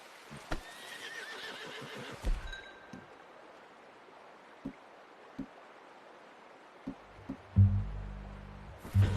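A horse in the video game Red Dead Redemption 2 whinnies briefly and hooves clop sparsely over quiet ambience, with a deep low rumbling snort near the end.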